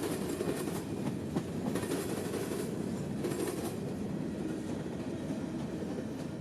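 A train rolls past in Valdosta, Georgia, with a loud, steady rumble and rattling railcars, the clickety-clack of wheels and faint flange squeal heard nearby, without talk.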